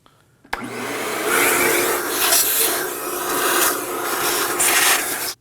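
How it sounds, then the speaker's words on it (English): A vacuum cleaner sucks debris out of the battery tray of a 2011-2016 Kia Optima, starting with a click and then running loud and steady for about five seconds, with scraping and rattling as it passes over the tray. "I'm gonna be using a vacuum to get all the debris out."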